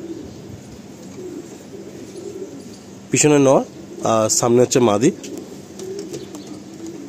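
A pair of Fulsira-breed pigeons, Madrasi and Andhra type, coo in soft low murmurs in the background while someone talks loudly nearby in short bursts.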